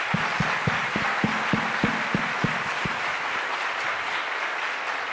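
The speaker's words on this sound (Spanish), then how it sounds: "Brindémosles un aplauso." Audience applause for standing members of the security forces at a presidential candidates' forum: about ten sharp, evenly spaced claps over the first three seconds, then a steady wash of crowd clapping fading into a diffuse, loud background without speech.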